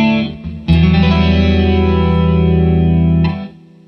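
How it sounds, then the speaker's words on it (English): A strummed guitar chord rings out through a Harley Benton Classic Chorus pedal set to lower rate and width, its sustain swirling with a sweeping, phaser-like whoosh before fading. "you almost get that phaser sort of flangey phasery sort of sound"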